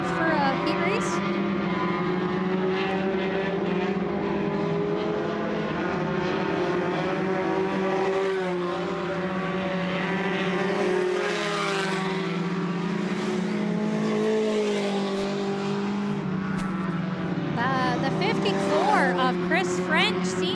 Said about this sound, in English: Chris French seems to be having some issues with that car as he rides the top of the backstretch